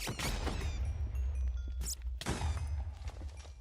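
Explosions going off in Minecraft on the GregTech New Horizons modpack: a dense run of loud booming blasts and crackling bursts with a deep rumble underneath, several hits in quick succession that keep the sound busy throughout.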